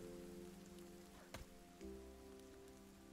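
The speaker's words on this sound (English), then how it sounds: "It's raining" Steady rain patters down across a forest in the survival game The Forest, a constant hiss throughout with a brief sharp knock near the middle and a low hum joining partway.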